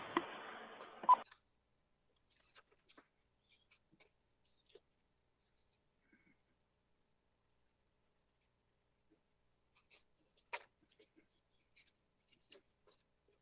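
Electronic phone tone heard during a tribal council meeting, a short loud burst of ringing at the start followed by faint scattered clicks and taps in an otherwise quiet room.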